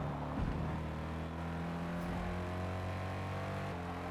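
A car engine in the Forza Motorsport racing game holds a steady, droning note at moderate distance, with a brief rise early on and a gear shift near the end, with no talking.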